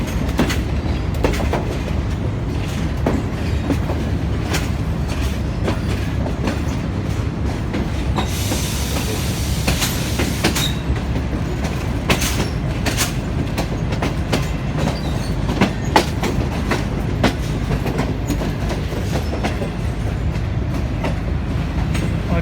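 A Green Line passenger train runs between Lahore and Rawalpindi, with a steady loud rumble and rhythmic clickety-clack of wheels on rail joints throughout, plus a brief high wheel squeal partway through.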